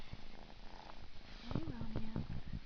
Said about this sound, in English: Oh, purr. Oh, purr.